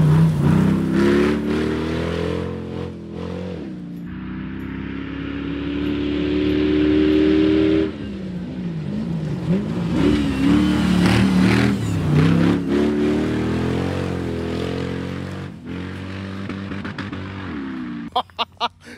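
A Jeep Wrangler swapped with a Corvette LS V8 engine revs up and holds a deep, rising roar close by, easing off and climbing again for a long stretch.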